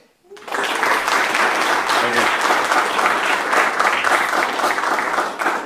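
An audience at a roast battle comedy show breaks into loud, sustained clapping that starts abruptly and holds steady, with a few voices mixed in.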